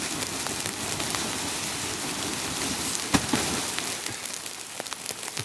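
Rain falls steadily on a tent in a storm in the New Zealand mountain tops. It makes a dense, even patter of close drops with an occasional sharper tap.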